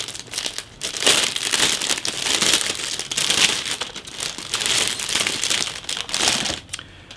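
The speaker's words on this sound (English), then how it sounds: "I'll open that bag now" Steady crinkling and rustling of a resealable plastic bag being opened, holding two plastic model kit sprues for a 1/48 scale Kinetic Harrier GR.1/GR.3, close and continuous for several seconds.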